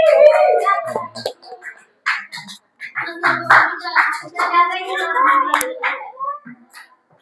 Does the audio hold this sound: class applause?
yes